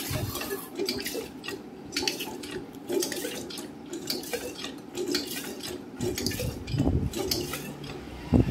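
Water gushes steadily from an ME-35 hydro pressure test pump for several seconds, with splashing and clattering as it fills a container, close and fairly loud.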